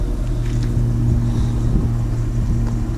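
A 2013 Ford Mustang GT 5.0 V8 with stainless steel dual exhaust gives a deep, steady engine rumble with a low throbbing exhaust note, loud and continuous throughout, with no talking.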